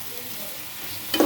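Beans fry in oil in a pan for a mashed bean dish, giving a steady close sizzle, with a brief scraping stir rising at the very end.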